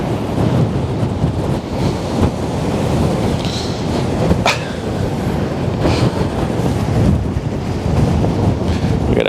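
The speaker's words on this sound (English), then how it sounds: "While I'm being completely blasted by the wind." Strong wind buffets an outdoor microphone at the Westerschelde shipping lane, a loud continuous rumbling roar with gusty surges throughout, with no voices.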